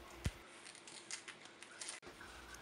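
Scissors snipping through fabric tags, a soft close run of crisp cuts and rustles after an initial knock, quiet and without speech.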